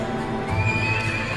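Cavalry horses of an army lined up before a battle give a loud, close neigh over a constant rough breathing texture that fills the whole moment.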